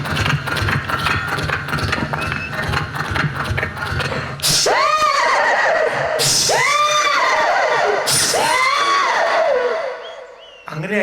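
A stage comedian imitates a horse's whinny with his voice, three loud rising and falling neighs in a row after a stretch of noisy crowd and speech, each call sharp and close.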